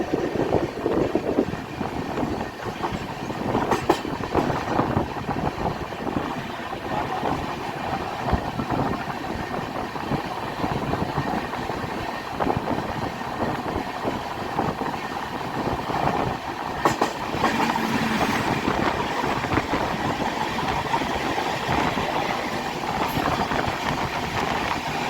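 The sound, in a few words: Sampurn Kranti Express train at New Delhi station platform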